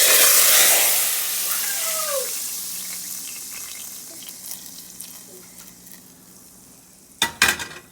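Cumin seeds frying in a pan, a loud sizzle at the start that gradually fades to a quiet crackle, followed by a few sharp clattering knocks near the end.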